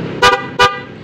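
Two quick, loud toots from a relay-wired car horn, close up, separated by a brief gap, with a faint stutter in the first blast and near silence around them.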